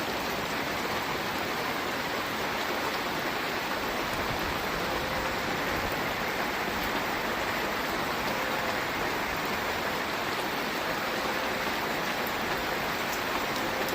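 Heavy, steady rain pours down continuously, a loud, even hiss of drops striking surfaces with no pauses and no voices.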